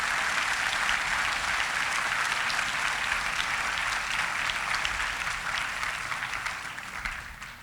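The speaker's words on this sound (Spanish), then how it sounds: "Dele ese aplauso." A church congregation applauds steadily in a dense, loud wash of clapping that fades gradually toward the end.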